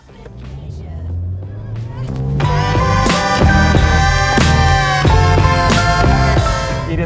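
A Skoda Fabia with a 1.6-litre 110 hp engine pulls away hard from a standstill, its engine note rising and growing louder after a quieter start, with some talk over it.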